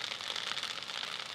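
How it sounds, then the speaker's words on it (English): Fried rice crackling in a hot pan, a dense, steady hiss of fine crisp pops, fairly faint and close with no voices. "That's the sound of rice that's dry enough that it's actually crackling and getting crispy."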